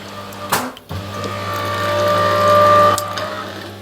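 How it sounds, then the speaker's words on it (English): An LG fridge freezer ice maker water pump runs close by as a steady mechanical hum with a faint whine, after a few sharp clunks at the start, then cuts off abruptly near the end. "that was the pump running"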